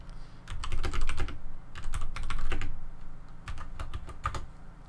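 Fast bursts of clicking keystrokes on a computer keyboard, loud and close, in irregular clusters separated by brief pauses, with no speech.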